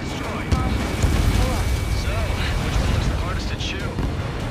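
Missile explosions with rumbling booms during a jet fighter air battle in Ace Combat 7, heavy low roars mixed with aircraft noise while radio voices talk over them.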